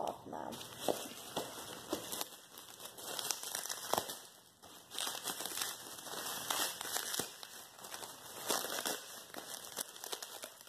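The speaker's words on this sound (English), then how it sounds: "All you gotta do is rip the tape off now." Packing tape being ripped off bubble wrap around a parcel of Funko collectibles, giving a continuous crinkly, crackling tearing and rustling for about ten seconds, close and fairly loud, with no speech over it.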